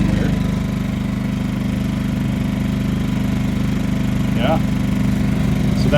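A portable generator that sat unused for 19 months runs steadily on choke, its engine a loud, constant droning hum throughout with no change in pace.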